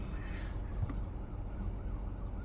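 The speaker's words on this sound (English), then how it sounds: "I hear sirens. I don't see them, but I hear them." Sirens from emergency vehicles, probably ambulances, sound in the distance. They carry faintly over a steady low rumble of outdoor traffic and ambient noise, and no one speaks.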